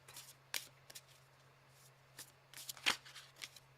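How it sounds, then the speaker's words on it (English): A deck of oracle cards is shuffled by hand in soft bursts of riffling and sliding, with a few sharper snaps close by against quiet background hum. "I went to try to shuffle again and the card kept trying to flip"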